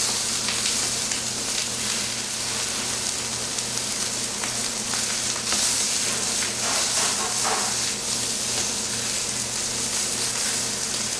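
Pork tenderloin sears in oil in a hot pan with a steady, close sizzle and crackle, broad and even throughout with occasional louder spits and pops; no voices.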